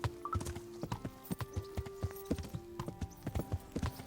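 Hooves of a galloping horse in Kingdom Come Deliverance pound in a fast, steady rhythm, close and distinct, with a low tonal hum underneath and no voices.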